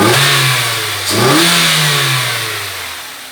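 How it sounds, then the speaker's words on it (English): A Mazda MX5 NB with the 1.8 VVT engine revs close up with strong intake roar, rising sharply once, dropping back, then climbing again and slowly settling. "I'll give you a little noise, the intake noise here."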